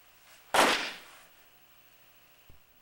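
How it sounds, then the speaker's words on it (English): A martial arts weapon throw, with two weapons released from one hand: a sharp whoosh-and-impact burst followed by a small knock about two seconds later, set against a quiet room. "You can also throw both weapons from one hand."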